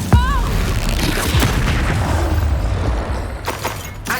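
Booming blasts from the Confringo explosion spell in Hogwarts Legacy, a loud, dense barrage with sharp cracks near the start and end, plus a rumbling low roar that runs throughout.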